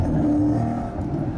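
A Maserati pulls away in first gear through an industrial estate, its engine a steady, loud, close drone that rises slightly with gentle revving, heard alone without talk.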